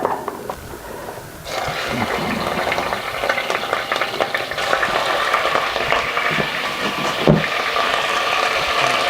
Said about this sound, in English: What we're doing really is just browning off the lamb.